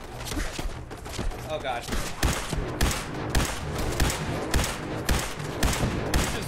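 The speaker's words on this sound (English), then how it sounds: "What is he shooting at?" NPC gunfire in a Fallout 4 battle at the Minutemen armory: repeated sharp shots crack out in irregular bursts throughout, mixed with game noise, while someone speaks briefly over them.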